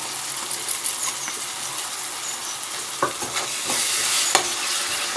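Tomato paste sizzles and fries with small fish pieces in a pan, a steady bright hiss with occasional stirring scrapes and clinks near the end.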